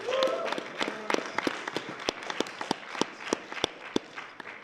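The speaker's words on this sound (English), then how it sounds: "Let's hear a round of applause for Yorkor" Applause from a crowd at an esports tournament, a dense spread of hand claps with sharp individual claps standing out, lasting the whole stretch before fading slightly.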